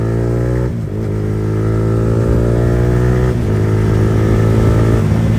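A Yamaha R15 V4 motorcycle fitted with an R9 exhaust accelerates hard through the gears, its loud, steady engine note climbing in pitch and dropping sharply at each quickshifter upshift, twice in quick succession.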